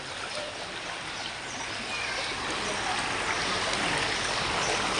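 Rain floodwater rushes in a steady, loud current along the flooded Kalshi Road area of Mirpur 11, Dhaka, a continuous close roar of muddy water that swells slightly throughout.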